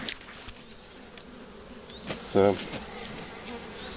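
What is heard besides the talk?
honeybees buzzing around a hive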